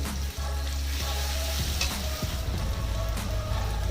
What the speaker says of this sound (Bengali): এবারে দিয়ে দেবো আদা রসুন শুকনো লঙ্কা পেস্ট করে রাখা। এই মশলাটা এবার দিয়ে দেবো